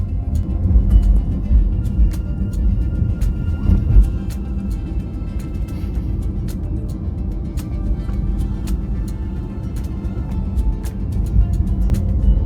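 A car cruising on a highway near Toronto, a steady low road rumble and engine drone running continuously with faint ticking overhead, no voices.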